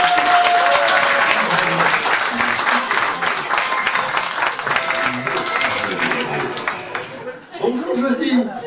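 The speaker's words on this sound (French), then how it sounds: "On peut l'applaudir et vive l'applaudir." Dense audience applause at a local community event in Cazouls-d'Hérault, steady clapping that thins toward the end as voices come in over it.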